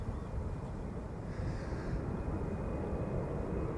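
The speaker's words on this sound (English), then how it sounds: "Next up, KLM flight 1177, Embraer 190, destination Stavanger." A KLM Embraer 190 airliner at Amsterdam Schiphol produces a broad, steady engine roar with gusty wind rumble, loud and unbroken throughout.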